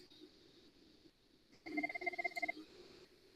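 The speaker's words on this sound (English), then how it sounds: "it's ringing." A VoIP desk phone rings during an internal IP-to-IP call, a short burst of rapid trilling electronic ring tones after a quiet stretch of faint room noise.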